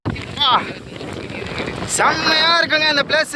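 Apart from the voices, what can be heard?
strong wind blowing in a canyon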